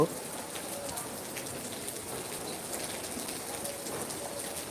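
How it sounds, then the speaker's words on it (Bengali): Steady rain falls without a break during Cyclone Remal over a waterlogged field, a soft, even hiss heard from a distance with no clear gusts of wind standing out. "আজ সারা রাত ঝোড়ো হাওয়া এবং বৃষ্টির সাথে সাথে পানিতে ভরে গেছে এই মাঠ"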